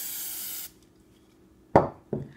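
Aerosol spray can hissing over a pastel drawing in one steady close burst that cuts off abruptly, followed after a pause by two sharp knocks, with no talking.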